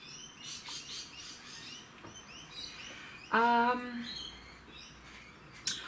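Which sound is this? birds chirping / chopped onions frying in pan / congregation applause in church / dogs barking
birds chirping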